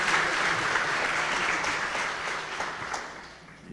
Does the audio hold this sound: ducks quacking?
no